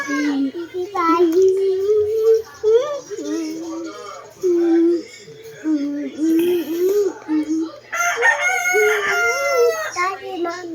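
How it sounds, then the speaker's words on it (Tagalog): A rooster crows repeatedly at close range, joined by clucking chickens and loud child chatter, with the birdcalls rising and falling in bursts throughout. "Daddy, chicken. Manok man og chicken."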